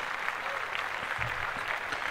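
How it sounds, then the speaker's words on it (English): A small group in a podcast studio gives a brief, fairly faint round of clapping, with scattered claps and voices talking underneath. "Another round of applause."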